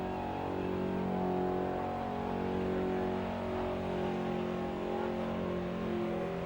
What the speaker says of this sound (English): he certainly knows how to lay a good burnout